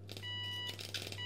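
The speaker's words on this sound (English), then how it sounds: "This has got a bit of a beep to it as well, a little speaker." A small mains-powered CRT flyback transformer arc device emits thin, high beeping tones from a tiny speaker, short repeated pulses over a steady low hum.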